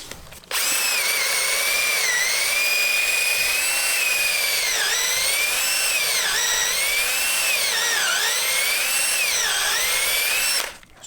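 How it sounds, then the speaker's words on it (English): A power drill whines steadily for about ten seconds, drilling countersink holes into pallet wood, its pitch dipping several times as the bit bites, then stops. "I'm now drilling some countersink holes"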